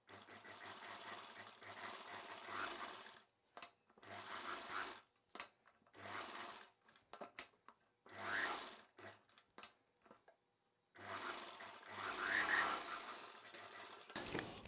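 A sewing machine runs in repeated bursts of a few seconds each, stitching around the neckline of a child's cotton summer frock, with brief stops between the runs.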